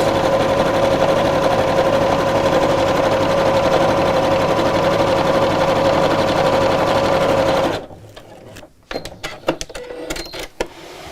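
A home sewing machine runs a long stitch straight across a zipped fabric pouch, with a loud, even motor whir for several seconds. Then it stops, followed by a few sharp clicks and handling noises.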